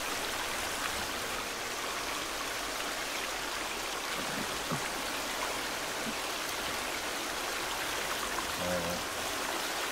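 A waterfall in The Forest video game, a steady broadband rush of falling water that continues unbroken and fairly loud, with a brief word spoken near the end.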